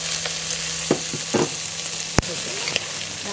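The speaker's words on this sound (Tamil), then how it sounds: "இப்போ நாங்கள் வெங்காயம் பச்சை மிளகாய் போடப்போகிறோம்." Onion and green chilli hit hot oil already fragrant with fennel seed for tin fish cutlets, giving a steady close sizzle with a few soft stirring clatters and one sharp knock partway through.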